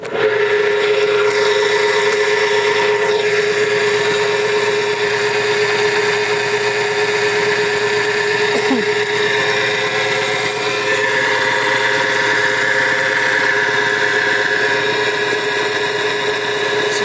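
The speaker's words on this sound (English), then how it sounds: "Surprisingly quiet for such an old machine. That big old motor spinning this pump." An old vintage air compressor, its big electric motor spinning the pump, runs steadily and close by, a loud continuous hum with a constant tone throughout and no voices.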